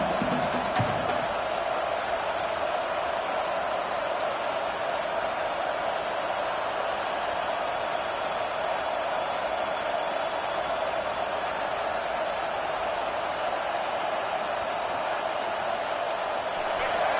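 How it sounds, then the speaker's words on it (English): Stadium crowd at a league football game roaring steadily and loudly as the defense tries for a fourth-down stop, a dense sustained wall of noise with no break. "This crowd busting the decibel meter and trying to will a 4th down stop."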